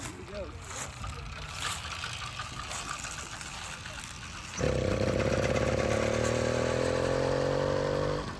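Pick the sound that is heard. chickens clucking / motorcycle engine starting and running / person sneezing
motorcycle engine starting and running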